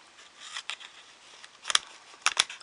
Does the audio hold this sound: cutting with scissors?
yes